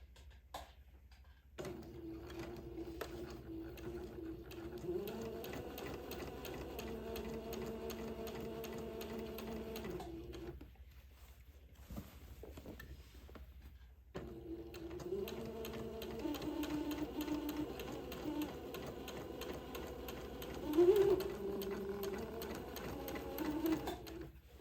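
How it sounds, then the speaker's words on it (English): A sewing machine running a plain straight stitch on a daygown, a steady close whirring hum in two long stretches of stitching separated by a brief pause, with no speech. "I've got my sewing machine set for just a plain straight stitch"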